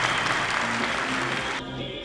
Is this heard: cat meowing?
no